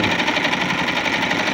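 A Pfaff 130 sewing machine makes an unidentified noise while running, a loud, dense, steady mechanical whir with a fast rattling pulse, close up and uninterrupted.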